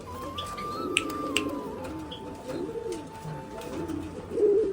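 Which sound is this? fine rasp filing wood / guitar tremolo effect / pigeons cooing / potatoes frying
pigeons cooing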